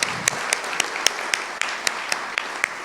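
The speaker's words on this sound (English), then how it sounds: "Round of applause for Donna Warren." An audience at a civic chamber event gives a modest round of applause, with scattered individual claps standing out at a moderate distance over a thin background murmur.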